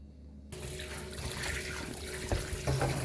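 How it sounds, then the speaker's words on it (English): Pork being washed under a running tap for Jamaican jerk pork, as water suddenly gushes on and splashes steadily into a sink with bursts of trickling and splattering over the meat, close by, with no voices. "Then the first thing we want to wash up your pork real good"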